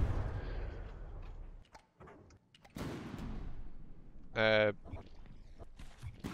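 Cannon shells land in the naval combat game From The Depths as several dull booms and bursts against a rumbling battle background, with a short, sharp metallic tone near the end.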